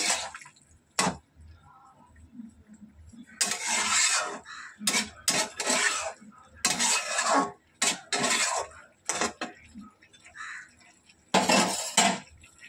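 Curry being stirred in a pot, a close spoon rasping and scraping against the metal in irregular bursts with short quiet gaps between strokes.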